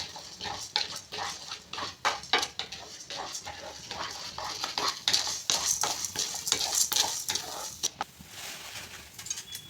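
A spoon scrapes and clinks steadily against a pan while urad dal roasts for a village-style curry leaf spice powder, in a quick repetitive stirring rhythm at close range.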